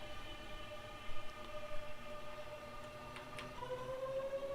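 A passenger train pulls away from a station, a steady low rumble with faint squealing tones and a rising whine, heard at a moderate distance with no talking.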